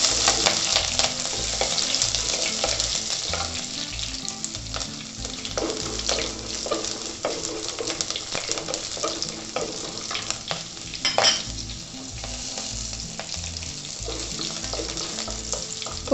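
Finely chopped ginger and a green chilli frying in hot oil for a quick tomato curry, a dense, continuous close sizzle with occasional stirring clatter and no talking.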